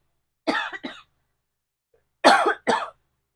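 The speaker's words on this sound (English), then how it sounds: "I have to cough" Two pairs of sharp coughs, close and loud, separated by a pause of near silence.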